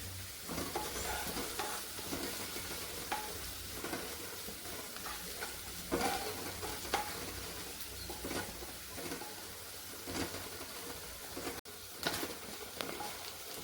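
Onions fry in a hot pan, hissing in a constant close sizzle, while a spoon stirs them with soft, regular scrapes. There is no talking.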